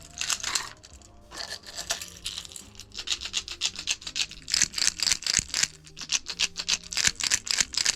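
Quick, repeated dry rattling and clicking of a rattling wobbler fishing lure for pike, like small beads shaken inside a plastic body, in uneven bursts heard up close.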